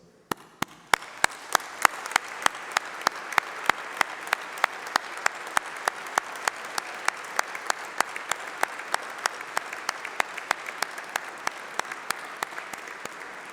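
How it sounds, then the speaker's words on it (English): Audience applause at a UCLan university graduation ceremony, steady and dense throughout, with sharp individual claps standing out in a regular rhythm over the broad wash of clapping. "please stand up while we give you a round of applause"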